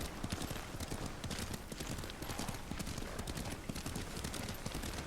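Horse hooves clip-clop in a steady, continuous rhythm while riding in Ghost of Tsushima, fairly loud and close throughout with no talk over them.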